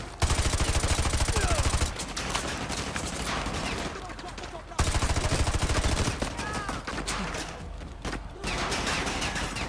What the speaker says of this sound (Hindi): भाई कहाँ फायर चल रही है?